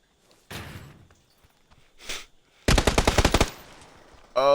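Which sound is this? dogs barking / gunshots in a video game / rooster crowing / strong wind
gunshots in a video game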